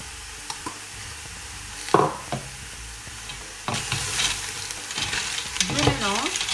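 Vegetables, mushrooms and dry pasta stirred in a pot, with scattered scrapes and clatters of the spoon over a soft sizzle that grows louder in the second half.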